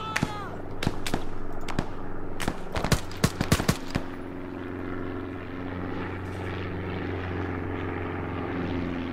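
Rapid gunfire in Arma 3, a string of sharp, loud cracks and bursts in the first few seconds over the steady drone of an aircraft engine, which continues alone afterward.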